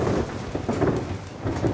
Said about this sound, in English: The storm is just going crazy.